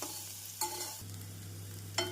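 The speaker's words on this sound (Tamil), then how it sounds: "உருளைக்கிழங்கை நாம் மசாலாவுடன் நன்றாக மிக்ஸ் செய்ய வேண்டும்." Potatoes stirred with masala in a frying pan, a soft sizzle with two quick scraping strokes of the spoon, close and quiet with no voices.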